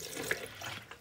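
Leftover RV antifreeze poured into a drain trap of a Jayco Hummingbird 16FD camper, a soft, short trickle of liquid with a small splash, faint and close.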